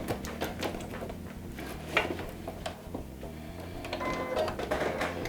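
Domestic sewing machine fitted with a roller foot stitching through two layers of vinyl, a steady mechanical chatter with a low motor hum running throughout, punctuated by a few sharper clicks.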